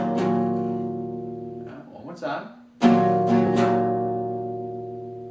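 Guitar chords ring out, a sustained strum at the start, then a voice speaks briefly, then a fresh strum followed by a few quick down-up strokes.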